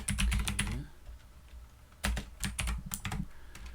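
Rapid typing on a computer keyboard, two bursts of crisp, close keystrokes separated by a short pause, with no talk.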